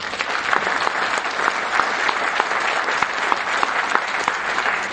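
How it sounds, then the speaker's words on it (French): Sustained applause from an audience at a meeting in Metz, many hands clapping densely and steadily for the whole stretch with no voices on top. "Je crois qu'on peut les applaudir."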